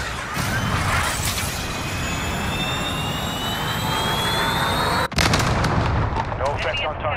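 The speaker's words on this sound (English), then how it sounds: "Cruise missile, go for launch." Cruise missile strike in Call of Duty Modern Warfare multiplayer: a loud, sustained jet-like roar with rising whining tones, then an abrupt cut into a heavy blast with rumbling debris afterward.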